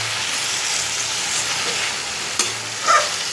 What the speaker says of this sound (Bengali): তো আমি এটাকে ভালো করে ভাজবো।